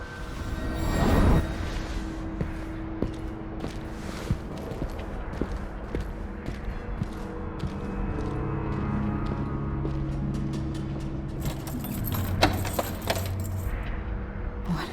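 Keys on a ring jangling in the Dishonored 2 video game, repeated metallic clinks over a steady game ambience with scattered clicks, a louder rattle near the end.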